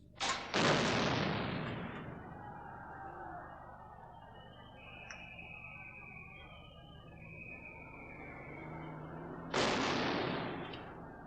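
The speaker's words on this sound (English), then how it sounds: "This time they fired back with many rounds of plastic bullets." Plastic bullet rounds fired by Royal Ulster Constabulary police at rioters during 1981 street disturbances: loud sharp bangs at the start and again near the end, with a steady crowd-and-street rumble between them.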